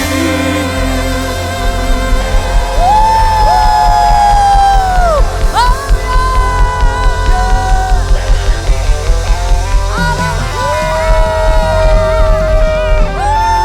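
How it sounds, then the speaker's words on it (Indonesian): A crowd at an evening worship event at a Formula One powerboat race cheers and whoops continuously and loudly, with sustained shouts and a sung or held tone running over a dense, rumbling roar of voices. "Sorak-sorai."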